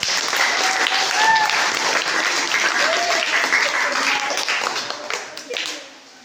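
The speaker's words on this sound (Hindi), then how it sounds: "इसके लिए तालियां लगाएं।" Sustained applause from an audience at an Urdu poetry gathering during a quiz, dense clapping throughout with a brief whistle-like tone, fading out at the end.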